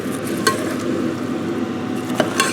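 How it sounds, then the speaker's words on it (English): Vegetables stirred into melted butter in a pan for braised rice, a steady soft sizzle with occasional utensil scrapes and clinks against the pan. "once the butter's melted, add the vegetables and mix until"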